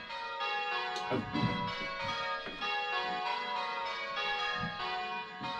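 Church bells struck in turn in a bell-ringing simulator, a dense run of overlapping metallic peals ringing with a steady rhythm, with one word spoken faintly.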